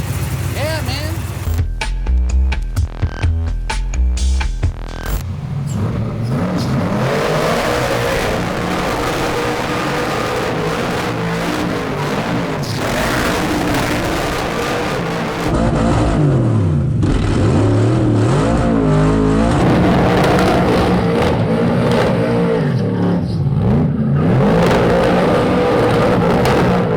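The 1200hp LS-swapped Buick Regal's engine revs hard during burnouts, loud and close, with its pitch surging and falling in repeated sweeps; people talk over the earlier part.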